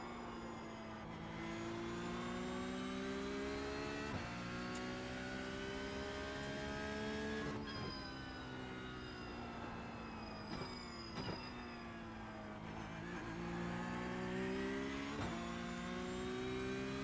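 A Porsche Cup race car on track in iRacing, its engine revving steadily up and down through gear changes over a full lap, a continuous loud whine with brief shift dips and no talk.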